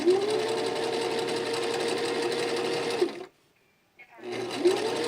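A sewing machine runs a steady straight stitch through pajama fabric for about three seconds, stops abruptly into near silence, then starts up again with the same close, even whirring.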